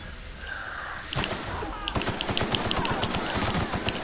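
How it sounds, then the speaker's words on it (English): A machine gun in The Outer Worlds video game, Peril on Gorgon expansion, fires a rapid, evenly spaced stream of loud, close shots over a steady background of game noise. "it's a machine gun thingy"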